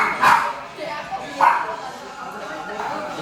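Small dogs in a dog cafe in South Korea give a few short yips and barks, spaced apart, among a hum of indoor chatter and voices.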